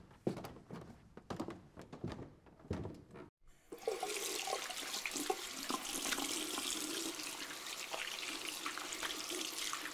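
Water gushes from a tap into a sink for washing up, starting after a few knocks and thuds and then running loudly and steadily, with no talking over it.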